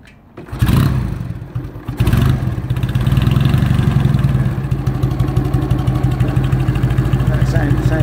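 A 1963 AJS Model 31CSR 650cc motorcycle is kicked and fires into a loud, close, lumpy idle with a steady thumping rhythm, with people talking nearby at the start.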